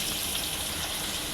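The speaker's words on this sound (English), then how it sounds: "now I'm gonna place it into the grease. Just place it. See how it's frying?" A pork chop sizzles in very hot frying grease, a steady, dense hiss of spattering fat that holds at a constant level with no talking.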